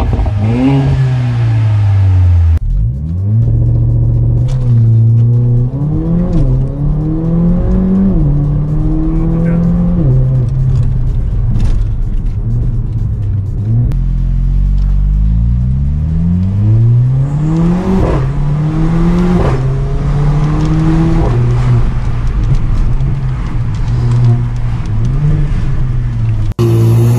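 A Mercedes-AMG A45 hot hatch in Sport mode accelerates hard through several rising gear shifts, loud and close, with throaty revs and brief drops between gears.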